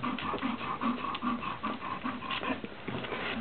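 Three-week-old puppies pant rapidly and rhythmically up close, a steady run of quick breathy huffs with no talking.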